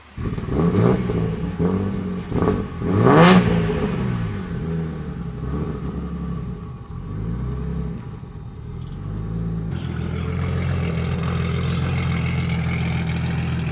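A boosted Nissan Z engine idles and revs on a dyno, with several sharp throttle blips early on before settling into a steady, loud rumbling idle that grows slightly rougher near the end.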